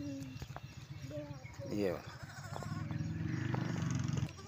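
Goats on a farm bleat several times, close and loud, mixed with other livestock sounds, while people talk over them.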